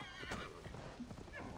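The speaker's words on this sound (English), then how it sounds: "my horse should be around here somewhere" A horse in Assassin's Creed Valhalla gives a faint whinny over muffled hoof clops and soft background noise, quiet and brief.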